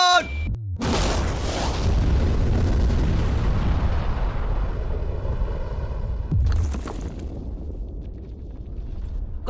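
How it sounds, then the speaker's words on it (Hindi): A huge real bomb explosion surrounding a safe erupts with a sharp crack, then a long roaring, rumbling blast that slowly decays, followed by a second sudden burst partway through. "ये एक असली धमाका है"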